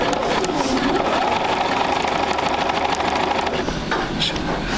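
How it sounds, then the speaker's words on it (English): A sewing machine runs continuously while stitching fabric for a quilt sampler block, a close, even, rapid mechanical whirr that hums without break throughout. "I'm going to take that needle and sew it right where that pin was"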